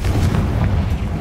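Confringo blasting spell explosion in Hogwarts Legacy, a deep rumbling boom with a heavy low-end roar that sustains loudly for the whole moment.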